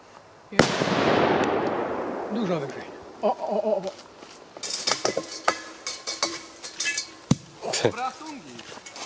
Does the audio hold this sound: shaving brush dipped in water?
no